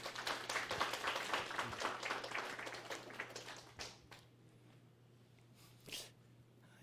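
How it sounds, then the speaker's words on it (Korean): A church congregation at a Friday service applauds, a dense wash of clapping for about four seconds that fades out, leaving quiet room tone with a couple of faint later sounds. "우리 감사의 박수를."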